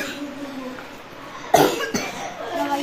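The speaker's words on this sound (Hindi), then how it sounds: "बुखार भी है और मुझे खांसी भी है" A person who has a fever coughs once sharply and then again more faintly, close by, against a quiet indoor background.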